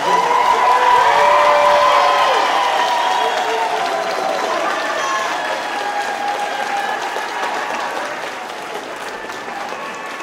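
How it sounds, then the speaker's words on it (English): A large crowd at the 775 Convention 2011 breaks into loud, sustained clapping with some cheering. The applause is strongest at the start and eases slightly toward the end, with a murmur of voices underneath. "let's all clap real loud"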